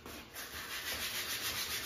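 Wood is sanded by hand with quick back-and-forth rubbing strokes, a soft, close, rhythmic scratching that repeats steadily with no talking.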